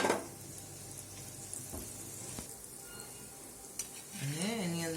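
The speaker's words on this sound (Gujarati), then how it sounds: "એના માટે બે ચમચા તેલ લઈ લીધું છે અને એની અંદર નાખશું એક ચમચી હિંગ અને એક મોટી ચમચી તલ" Asafoetida and sesame seeds sizzle in hot oil with a sharp crackling burst at the start, then a steady close hiss with a few stirring clicks, and a brief whistling tone rises near the end.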